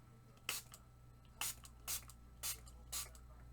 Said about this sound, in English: I think we're going to spray it with water.